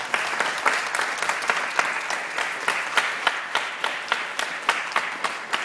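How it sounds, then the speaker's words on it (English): Teens applaud and clap together in a Catholic church, a bright, steady crowd applause with regular, rhythmic beats standing out across several seconds. "Give it a clap to Jesus"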